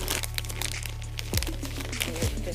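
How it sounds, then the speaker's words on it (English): A small plastic bag holding a tea sachet is torn open up close, giving sharp crinkling and crackling bursts with brief pauses between them. "When you open the packages, they come in little plastic bags."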